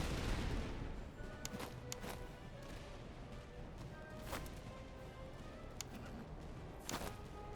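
Troops firing volleys in the battlefield game Master of Command, a steady crackle of scattered gunshots and distant musket-like pops over a constant low battle rumble.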